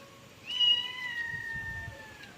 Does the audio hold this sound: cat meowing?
yes